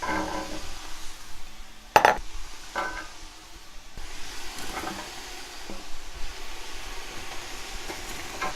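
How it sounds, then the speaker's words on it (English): Onion and garlic are mixed in a pot: a soft, steady frying hiss broken by scrapes and a sharp metallic clink of a utensil against the pot, nearby and moderate. "Just going to mix my onion and garlic together."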